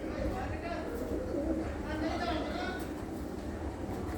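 Pigeons in a loft give soft, low cooing calls, faint and somewhat distant under a steady background hum, with a person speaking over them.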